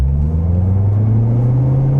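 Exhaust of a 2014 Chevrolet Corvette C7 with a manual gearbox opening up in sport mode, a steady deep rumbling drone that swells slightly, close and loud throughout with no talking.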